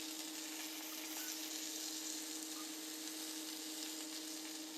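Steady, dense sizzling of meatballs frying in a pan, continuous and fairly loud with no voices.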